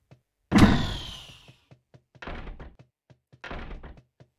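A heavy simulated door swings shut with a loud thud, followed by two more softer bumping thuds as several doors swing and bounce, with small taps between.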